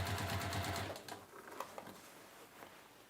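A sewing machine runs in a fast steady burst while stitching a tote bag seam, then stops, leaving a few faint clicks and handling sounds of fabric being rolled.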